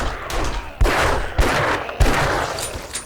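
Gunfire in the zombie survival video game 7 Days to Die, four loud sharp shots spaced about half a second apart over sustained noisy rumble, with no talking over it.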